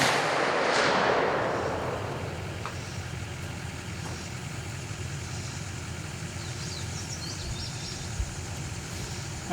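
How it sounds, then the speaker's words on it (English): A single loud rifle shot cracks toward a 100-yard target at the start and decays into a rumbling tail, followed by a steady low engine-like hum outdoors. "We're going to shoot at 100 yards."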